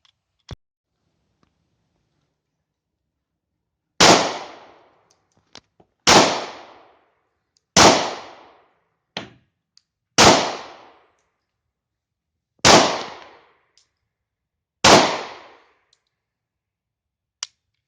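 A German P.08 Luger pistol fires six sharp, loud shots outdoors at a range, spaced about two seconds apart with brief decaying echoes, plus a few quiet clicks between them.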